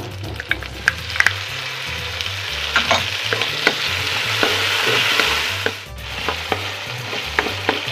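Tomatoes and fish sauce sauté in a pan, a continuous close sizzle with frequent spatula clicks and scrapes against the pan, a low hum running beneath.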